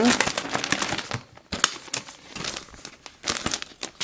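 A stiff, sturdy foil packet of Panini stickers from the Road to 2014 FIFA World Cup Brasil series is torn open and handled, producing loud, close crinkling and crackling bursts in uneven clusters with short pauses.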